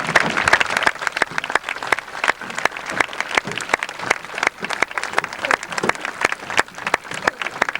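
Audience and graduates at a 1999 high school graduation applaud retiring staff, with scattered, distinct claps forming a loose, uneven round that carries on for several seconds in a large hall.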